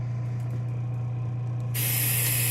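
Black Widow airbrush spraying brown paint into a cleaner pot, a steady close hiss of air and paint that turns sharply brighter and louder partway through, with no talking.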